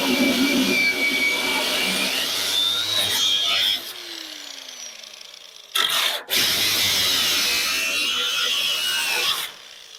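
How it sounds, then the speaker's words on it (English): An angle grinder with a worn-down grinding wheel cuts through metal, a loud steady broadband whine that drops out briefly midway and then resumes, running alone without speech. "My grinding wheel got too short."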